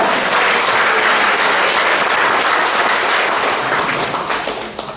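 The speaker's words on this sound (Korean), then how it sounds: "하나님 아버지께 영광의 박수 올리겠습니다" An audience claps in unison at a church Bible seminar in a university alumni hall, a dense, loud, steady wall of applause that fades slightly at the end.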